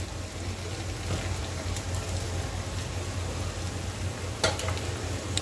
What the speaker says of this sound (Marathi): आपल्याला एक बॅच तळण्यासाठी 4 ते 5 मिनिटं लागतात।